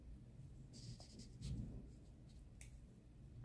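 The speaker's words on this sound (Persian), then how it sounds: "همون چیزی رو که اینجا اجرا کردم دارم الان روی کاغذ براتون میکشم" A pen scratches a straight line across paper for an embroidery pattern, faint quick scraping strokes in a quiet room.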